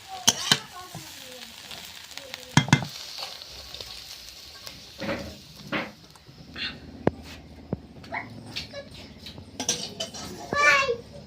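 Potatoes fry with fish in a pan, giving a faint, hissing sizzle in a home kitchen. Children's voices, chatter and occasional clatter come and go over it.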